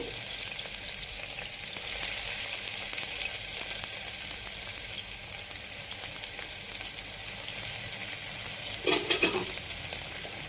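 Sliced onion sizzling and frying in a pan of hot oil, a continuous crackling hiss with brief scraping stir sounds near the end.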